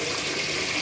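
Water pumped by a Grundfos twin impeller regenerative booster pump at 3.0 bar gushes hard into a toilet bucket, a loud, close, continuous rushing splash with no talk over it.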